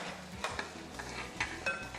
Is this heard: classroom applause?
no